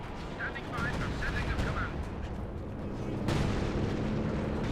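Artillery shells bursting in a 4v4 battle in the video game Company of Heroes 2, a dense, loud rumble of explosions and gunfire rolling continuously with a heavier blast partway through.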